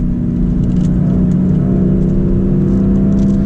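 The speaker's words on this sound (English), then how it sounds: "And now we'll downshift." A BMW M4 Convertible with a manual gearbox drops a gear, its engine note steady and loud inside the cabin, with a strong droning tone and only a slight rise in pitch as the revs are matched, no talking over it.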